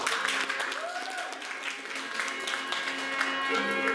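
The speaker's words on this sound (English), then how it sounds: "Give her a round of applause." An audience at a mentalist's show at Felician University applauds a volunteer coming up on stage, the clapping steady and moderately loud while a voice talks briefly over it.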